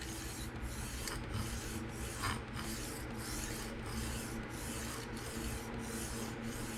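A Kunwu Chad knife in PM60 steel is sharpened freehand on a hard stone. Light, smooth rubbing strokes hiss steadily and close, with regular brief pauses about every half second, and no one speaks.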